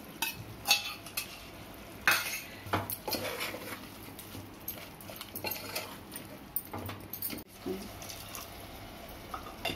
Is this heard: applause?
no